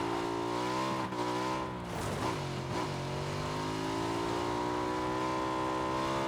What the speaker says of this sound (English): It's a loud vehicle as well